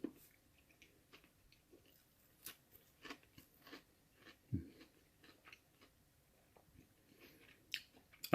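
Close, quiet crunching bites and chews of panko-crusted fried chicken breast, with scattered crisp crackles and soft mouth sounds spread unevenly across the stretch with no talking.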